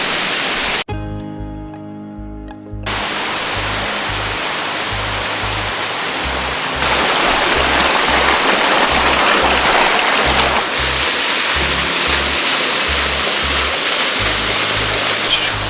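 A waterfall along a mountain hiking route gives a constant loud rushing hiss; after a short muffled break near the start, the roar continues steadily and grows slightly louder partway through.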